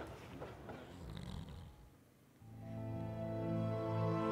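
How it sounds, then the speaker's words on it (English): A man snores inside a train compartment in the video game The Lion's Song, a steady, droning snore rising after a quieter stretch of muffled background sound, heard close and alone without speech. "And he's snoring."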